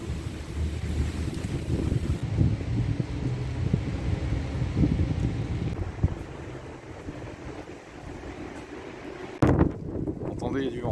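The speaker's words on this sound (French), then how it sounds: "Entendez, il y a du vent, hein, si vous entendez." Wind by the Seine near Pont Neuf gusts against the microphone in a low, blustery rumble that rises and falls, with a person talking over it and a sharp knock near the end.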